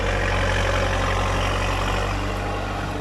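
A heavy diesel engine of a Komatsu D50A crawler tractor rumbles steadily nearby, a constant low idling drone with no pauses, at a rubber plantation in the rainy season.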